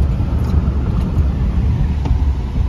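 A 2010 Ford Escape with a 2.5-liter engine drives along at a steady pace, with a loud, continuous low road-and-engine rumble heard from inside the cabin and no talking.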